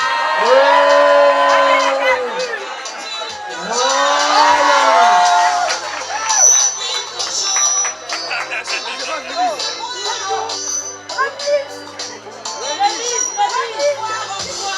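A crowd at a dowry ceremony in Pointe-Noire cheers with loud whoops and rising shouts, then breaks into scattered clapping and excited voices, some children's, close and boisterous throughout.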